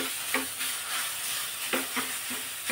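Cherry tomatoes roast in a hot pan with a steady close sizzle and hiss, broken by a few soft scraping stirs of a spoon.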